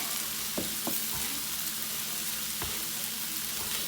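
Ginger sizzles steadily in hot oil in a pan, with a few sharp scraping stirs of a utensil cutting through the constant frying hiss; no talking.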